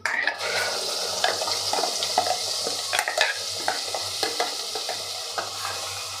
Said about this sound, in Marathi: आता हे वाटण आपल्याला सगळं मिक्स करून घ्यायचं आणि छान असं तेल सुटेपर्यंत आपल्याला परतवून घ्यायचं आहे